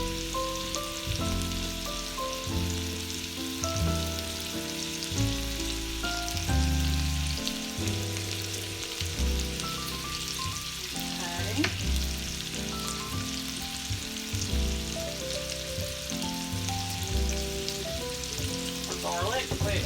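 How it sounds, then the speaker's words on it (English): A sausage fries in a pan with a steady, close sizzle that runs the whole time under loud background music with shifting notes. "the sausage is happily cooking"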